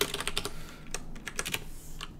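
Typing on a computer keyboard while writing notes in a research app, with quick bursts of close, crisp key taps and a few brief pauses between runs of keystrokes.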